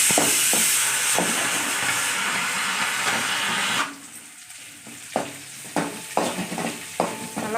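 Food being roasted in a pan until golden: a loud, steady sizzle and hiss at first, then quieter, with a run of sharp scraping and clattering stirs against the pan.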